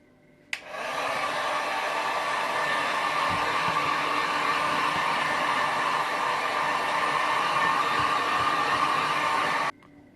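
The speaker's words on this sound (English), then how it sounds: "I normally use a heat gun on the back, so you don't really burn the front." A heat gun blows steadily behind a car rear light lens, a loud continuous hiss-roar that starts abruptly and runs alone for about nine seconds before cutting off.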